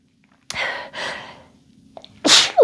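A person sneezing repeatedly up close: two breathy, sharp bursts in quick succession, a brief pause with a small inhale, then a third loud sneeze at the end.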